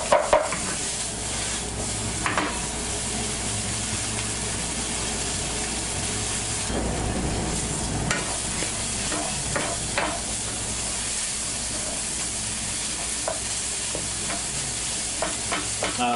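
Soffritto vegetables frying in a pan, a steady close sizzle and hiss broken by repeated scraping and clacking as a utensil stirs them, with no talking.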